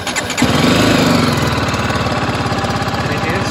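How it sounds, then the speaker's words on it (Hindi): A BMW G310GS motorcycle cranks briefly, fires up and settles into a steady, close, loud single-cylinder idle with a fast even pulse. "ये इग्निशन ऑन हो गया, उसके बाद बाइक को करता हूँ स्टार्ट।"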